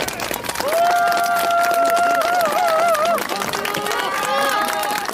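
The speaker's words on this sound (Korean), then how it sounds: "박수!" A crowd at an outdoor standing political rally in Osan claps and cheers, with loud sustained shouted chanting riding over the applause.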